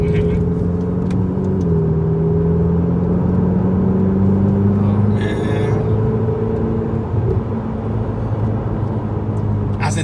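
A Ferrari 488 drives at speed, its engine a steady loud drone with shifting pitch and heavy road and wind noise inside the cabin, while people talk over it.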